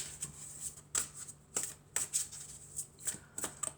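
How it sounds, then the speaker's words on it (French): Angels and crystals oracle cards are shuffled close up in a quiet room, a steady run of soft riffling flicks repeating about every half second with no speech. "je vais prendre une carte de l'oracle des anges et des cristaux"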